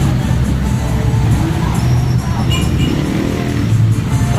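Busy road traffic heard up close and loud, a continuous rumble of cars and motorcycles with engines revving and passing amid faint background chatter.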